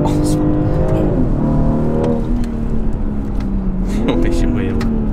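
BMW G20 M340i Stage 1 engine pulling hard at speed on an open road, a loud continuous drone whose pitch rises and dips through the gears, with people talking inside the car over it.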